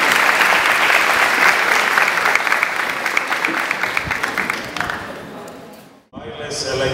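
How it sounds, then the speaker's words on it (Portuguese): An audience at a lecture applauds warmly, dense close clapping that holds strong and then tapers off, cut by a brief silence before the noise resumes. "Vamos recebê-lo com a calorosa salva de palmas."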